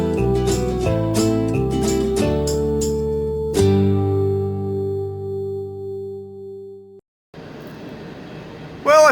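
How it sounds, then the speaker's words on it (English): A train passing near a gold-prospecting claim, a loud sustained rumble with strong tonal horn-like harmonics and clanking bursts, fading to a low noisy wash before a brief loud hit at the end. "Got a train going by."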